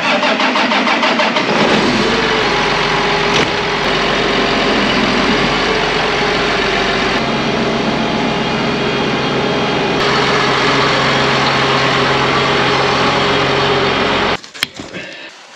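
A farm machine's engine cranks and fires up, then runs at a steady, loud idle for about twelve seconds before cutting off abruptly near the end.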